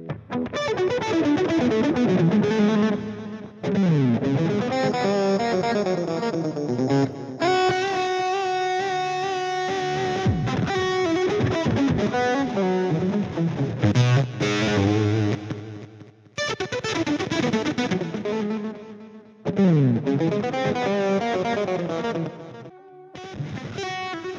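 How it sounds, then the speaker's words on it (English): Distortion effects from the Blue Cat Audio Axiom plug-in applied to a played instrument, gritty saturated harmonic tones in phrases with short gaps as the distortion character shifts between sections, loud and continuous with no voice. "I can see all kinds of different types of distortion."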